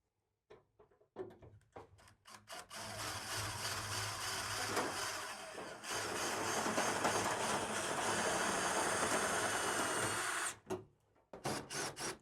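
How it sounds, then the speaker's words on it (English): A screw gun drives self-tapping screws into the metal frame of a Sprinter van, with short bursts at the start, then a long, steady, loud whirring run, followed by more brief bursts at the end. "we're gonna grab some self-tappers and our screw gun, and we're just gonna get this temporarily screwed in place"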